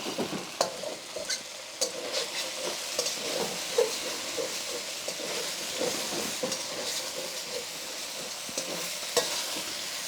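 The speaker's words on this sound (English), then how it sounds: "Use the surface area of the wok to make sure you're getting as much searing as you can with this" Flank steak sears in a hot wok with a steady close sizzle, broken by scraping, tossing stirs of the spatula against the metal, and no talking.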